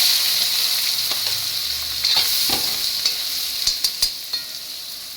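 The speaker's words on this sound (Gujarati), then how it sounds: "ડુંગળી સરસ સોતે થઈ ગઈ છે" Onion sautés in a pan with cumin and sesame seeds for dal tadka, a loud, bright, close sizzle throughout, joined by a series of sharp stirring taps toward the end.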